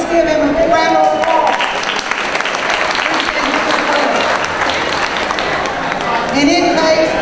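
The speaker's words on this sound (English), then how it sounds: "Please give him a big round of applause." Audience at a county Republican Party barbecue in Winder, Georgia clapping loudly and steadily for several seconds, with voices and cheering calls mixed into the applause.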